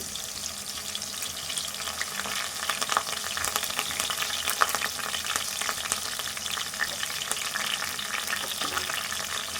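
Curry leaves and turmeric fry in hot oil for a fish curry, making a loud, continuous crackling sizzle close by with bursts of spitting throughout.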